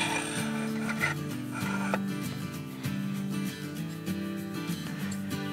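An EDgun Matador R5M air rifle is reassembled and its reservoir inserted, giving close metallic clicks, scrapes and ratcheting handling sounds over a steady background hum.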